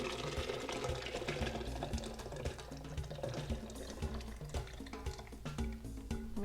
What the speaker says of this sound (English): We're going to pour our sauce in